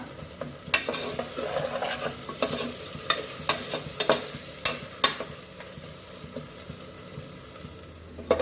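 Ginger, garlic, onion and green chili fry in a pan, crackling steadily while a spoon stirs and scrapes, with sharp clinks against the metal every second or so, close and fairly loud.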